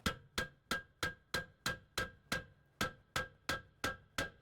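A hammer taps a bushing into the front of a lower control arm on a 2007-2012 Hyundai Santa Fe, thirteen sharp, evenly spaced metallic knocks in a steady rhythm, close and clear with no talking.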